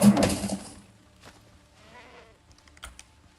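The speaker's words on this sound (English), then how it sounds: "Nanny goat again." A nanny goat bleats briefly among clicking and rustling sounds, after a louder burst of noise at the start, with quieter scattered taps that follow.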